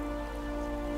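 Steady rainfall patters continuously in the Lord of the Rings Ennorath mod strategy game, a dense even hiss mixed with a low tonal drone from the game soundtrack.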